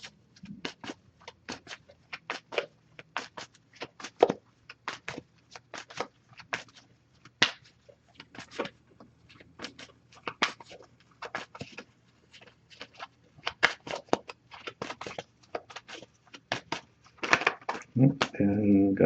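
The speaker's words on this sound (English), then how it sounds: "That's going to pull a single card from this deck" An oracle card deck being shuffled and handled: a long run of quick, crisp card snaps and flutters that come in irregular clusters, getting busier and denser toward the end.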